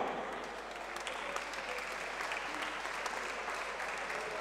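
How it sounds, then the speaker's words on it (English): Sustained applause from the audience for both fighters after an MMA bout, a dense, steady wash of clapping that holds at an even level throughout with no break. "round of applause for both fighters this evening"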